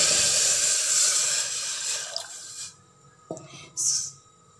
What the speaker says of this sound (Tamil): குக்கர் சூடானதும் நான் கொஞ்சமாக தண்ணி ஆட் பண்ணிக்கிறேன்.